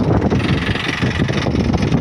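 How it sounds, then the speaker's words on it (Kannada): A tractor sowing seeds in a farm field, its engine droning steadily and loudly throughout, with wind buffeting the microphone. "ಈ ಒಂದು ಜಮೀನಲ್ಲಿ ಟ್ರಾಕ್ಟರ್ ಸಹಾಯದಿಂದ ಬಿತ್ತನೆಯನ್ನು ಮಾಡ್ತಾಯಿದ್ದೀವಿ"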